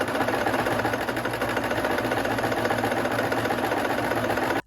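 A sewing machine runs steadily while stitching the side seams of a dress, its fast, even mechanical whir held close and loud throughout with no pauses or voices.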